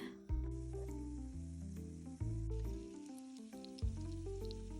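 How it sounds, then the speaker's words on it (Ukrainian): Chebureki, pastries made from a dough mixed with sparkling water, fry in a pan with a soft, continuous sizzle that sits under louder background music. "Побачимо, як буде смажитись."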